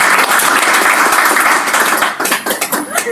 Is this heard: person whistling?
no